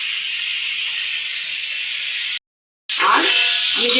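Vegetables with carrots frying in oil in a pan: a loud, steady, bright hiss that cuts out briefly, then returns with stirring clatter mixed in.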